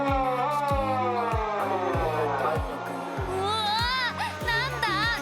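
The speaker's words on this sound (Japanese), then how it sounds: "なんだ、急にサイレンが。" A fire station siren sounds during a morning equipment check, its wailing tone sweeping up and down repeatedly and loudly, with a second higher warbling siren layered in toward the end.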